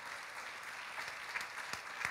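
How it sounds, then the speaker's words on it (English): Audience clapping in a church during a worship service, a short steady patter of applause at moderate distance with a few louder claps standing out near the end. "Can we give them another round of applause?"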